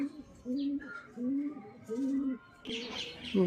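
Pigeons coo in low, rounded, repeated phrases with a steady rhythm, close by, and a few brief chirps mixed in.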